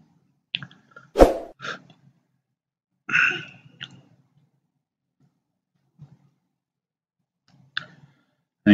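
A computer mouse clicking, a few sharp isolated clicks spaced out over several seconds with quiet gaps between, close and crisp, no talking.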